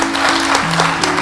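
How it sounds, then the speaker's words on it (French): Studio audience applauding contestants at a French spelling competition, a steady wash of clapping that fills the short moment with no voices over it. "Merci de les applaudir très fort"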